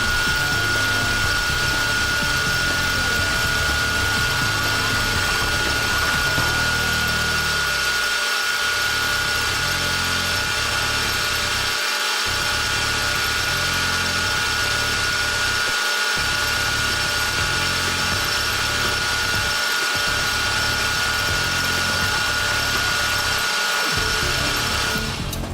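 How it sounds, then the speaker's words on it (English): Aluminium BLOCART wheel being faced off on a lathe: a steady, loud metal-cutting whine with mechanical rattle, broken by several brief pauses where the machine drops out, repeating about every four seconds. "When you're facing off the surface of the aluminium, try to take only small amounts of material off each time."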